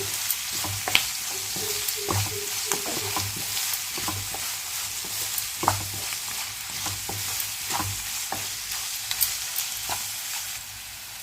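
Onions frying and being stirred in a pan for Telugu-style puri curry, a steady close sizzle broken by repeated clinks and scrapes of a spoon against the pan, with no talking.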